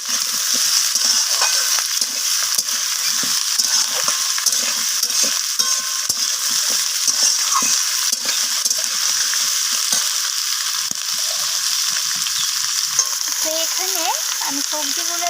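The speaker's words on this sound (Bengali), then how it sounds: "তো সিমটাকে দিয়ে আবারও নাড়াচাড়া করে আমি সব কিছুর সাথে একটু ভাজা ভাজা করে নিচ্ছি" Chopped green beans stir-fried in a pan give off a bright, continuous sizzle, steady and close throughout, with occasional scrapes and clinks of a spatula stirring as the cooking goes on.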